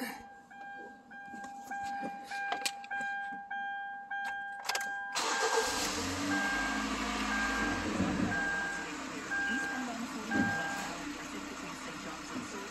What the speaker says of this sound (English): So I'm going to start the car. I'm going to back the car up a little bit.